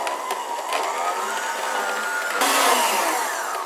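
An electric mixer whirs steadily through mascarpone cream for a birthday cake filling, a continuous motor drone that grows slightly louder and brighter partway through, with no voices.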